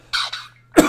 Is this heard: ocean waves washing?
no